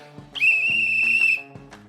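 A single shrill whistle blast held for about a second, with quieter background sounds before and after.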